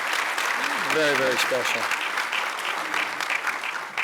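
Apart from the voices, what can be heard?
applause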